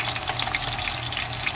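Rice-and-pigeon-pea ingredients stir-fry in a hot pan for Puerto Rican arroz con gandules, a steady close sizzle and crackle with no talking.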